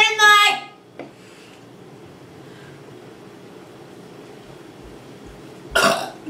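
Burps during a burping contest: a loud, drawn-out belch opens, a short one follows, then a quiet stretch before another loud burp near the end.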